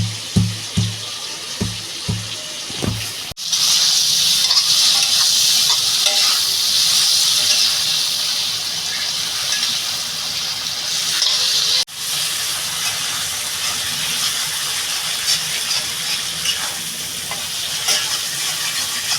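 A few light knocks, then loud, steady sizzling and hissing of shrimp frying in a pan, continuing without pause until the end.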